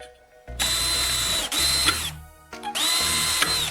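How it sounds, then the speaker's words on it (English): A power drill bores two holes in a small metal profile, running in three loud bursts with short pauses between, the motor note steady under a gritty cutting rasp, without any voices. "Take a small piece of metal profile and drill 2 holes in it."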